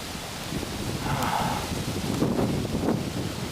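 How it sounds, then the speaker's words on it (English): Mountain breeze buffeting the microphone on a hike, a steady broadband rustle that swells and eases over a few seconds, with no clear voices. "it's cool to be in the mountain breeze"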